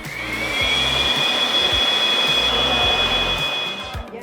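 A steady, loud whoosh of blown air with a high whine, running continuously without speech.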